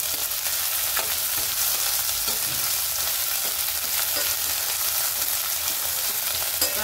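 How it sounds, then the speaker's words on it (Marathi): Chickpea greens with a green chilli paste sizzle steadily in a pan, a dense continuous frying hiss with occasional faint stirring scrapes, close and alone without talk. "आपल्याला याला पण चांगलं परतून घ्यायचं।"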